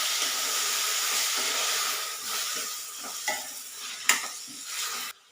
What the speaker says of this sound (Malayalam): ഇനി ഇതിലേക്ക് 2 തക്കാളി, ചെറിയ തക്കാളിയാണ് അരച്ചെടുത്തതും കൂടെ ഇതിലോട്ട് ഒഴിച്ചു കൊടുക്കാം.